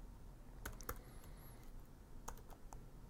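Quiet keystrokes on a computer keyboard, a few scattered clicks and short bursts of typing over a faint room hiss, nobody speaking.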